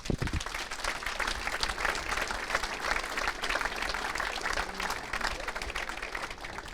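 Sustained applause from an audience at a Saints members' evening event fills the room, dense and steady clapping that carries on without a break, with faint voices mixed in.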